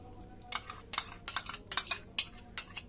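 Spoon scraping yogurt into a bowl of ground spices, a quick series of soft clinking scrapes, close and quiet.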